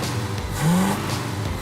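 An old, smoky truck engine runs rough after a hard start, its low drone rising briefly in pitch as it revs, then settling back to a steady rumble.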